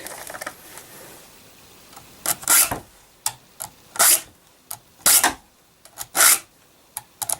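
Rhythmic rasping strokes of a metal file sharpening a chainsaw chain, bursts of scraping separated by short pauses, close and distinct.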